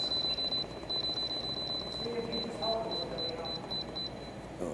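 An Instant Pot gives a rapid series of short, high electronic beeps in quick bursts while being set to manual for 4 minutes, with speech and kitchen sounds beneath at low volume.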